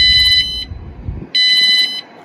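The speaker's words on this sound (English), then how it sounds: "The alarm beeps twice and this light comes on" A VanGuardian van alarm gives two loud, sharp electronic beeps, each lasting about half a second and separated by a pause, with low rumbling background noise in between.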